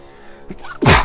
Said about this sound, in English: That was a sneeze. That was 2 sneezes.